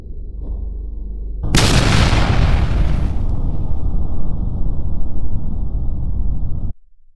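A bomb explosion erupts in a sudden loud blast after a low rumble, then a rolling boom that sustains for several seconds before cutting off.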